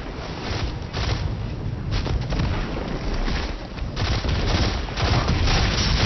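Gunfire and a heavy explosion as a walker tank is destroyed in the Destiny 2 video game: a loud, continuous barrage of booms and rapid shots with no pauses.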